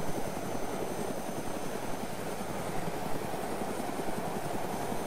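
A helicopter in ArmA 2 hovers close by with a steady, loud rotor chop and turbine whine that stay constant throughout.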